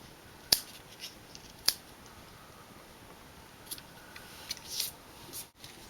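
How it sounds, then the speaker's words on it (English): Scissors snipping paper while trimming pieces for a handmade card, a couple of sharp distinct cuts followed by a few softer snips and rustles in a quiet room. "trim those just a little bit more"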